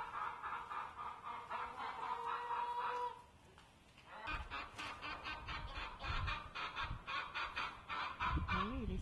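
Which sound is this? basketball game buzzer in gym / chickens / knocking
chickens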